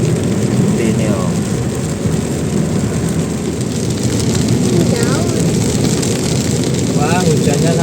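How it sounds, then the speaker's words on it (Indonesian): Heavy rain pounding a car windshield with the wipers off, a dense continuous roar of drumming drops heard from inside the car, loud and steady, with a voice talking over it. "Wah, hujannya sangat deras sekali."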